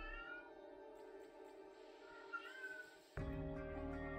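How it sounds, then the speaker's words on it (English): A cat meows with strong, tonal cries, one drawn-out call giving way to a louder, sharper meow near the end, close and clear over a quiet backdrop. "There's the cat."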